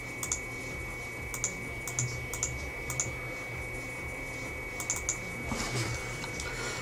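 Typing on a computer keyboard: scattered, close key clicks in small clusters over a quiet background hum.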